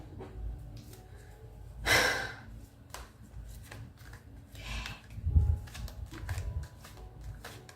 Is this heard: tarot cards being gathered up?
yes